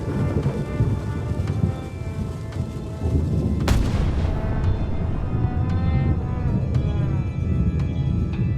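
A cannon fires in the video game Return to Monkey Island, one loud sharp boom midway over a steady rumbling, rain-like game ambience, followed by a decaying tail.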